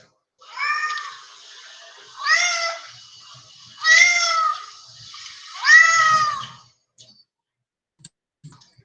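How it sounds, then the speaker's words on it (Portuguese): A sick pet cat meowing in pain, played back from a recording: four loud, strained meows in a slow, evenly spaced series, each rising and falling, with brief quiet gaps between them. "Então esse miado dela"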